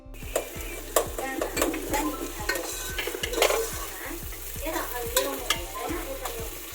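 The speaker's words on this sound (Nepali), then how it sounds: "प्याजलाई गोल्डन ब्राउन हुने गरी खराउँदैछु है।" Onions fry in a pan until golden brown, a steady close sizzle with a regular rhythm of spatula stirs and scrapes, and no talking.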